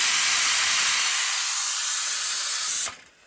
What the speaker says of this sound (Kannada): ಇನ್ನು ಆ ಕಡೆ ಮಟನ್ನು ವಿಸಿಲ್ ಬರ್ತಾ ಇದೆ